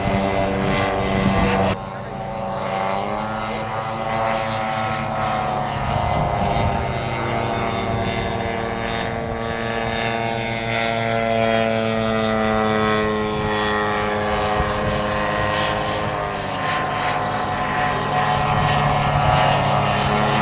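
A light model propeller airplane takes off and flies at an outdoor model air show, its buzzing engine drone steady and loud throughout, rising and falling slightly as it passes, with a voice talking over it.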